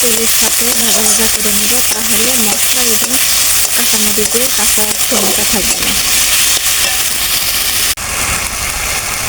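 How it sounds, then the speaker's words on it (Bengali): Cumin paste, garlic paste and green chilies frying in oil make a loud, steady sizzle up close, with someone speaking over the first half. "তেলের সাথে ভাজা ভাজা করে নেব তাহলে মশলাগুলো"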